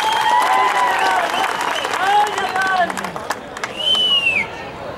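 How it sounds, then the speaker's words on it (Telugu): A crowd applauds at a political meeting with a burst of loud clapping and cheering, mixed with crowd chatter and whistles, and it tapers off toward the end. "రాష్ట్రంలో చాలా దగ్గరలు ఇలాగే చప్పట్లు కొట్టారు"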